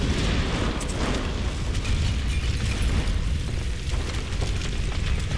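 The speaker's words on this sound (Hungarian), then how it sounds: "Ez durranni fog. Ott a robbanó hordó." Explosive barrel blowing up in the video game Tomb Raider (2013): a loud, sustained roaring blast with dense rumble and crackle filling the whole stretch, no talk over it.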